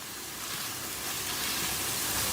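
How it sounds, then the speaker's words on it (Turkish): Tomato paste fries with browned ground meat in a pan, giving a steady, close hissing sizzle that swells slightly louder over a couple of seconds, with no voices. "Salçamızı iyice bir kavuracağız."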